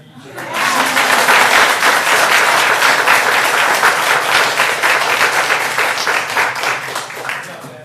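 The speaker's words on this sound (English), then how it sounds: "I think we should give the kids a round of applause" A crowd at a school board meeting bursts into loud applause for children that holds steady for several seconds, with faint chuckling and a voice or two underneath, then fades.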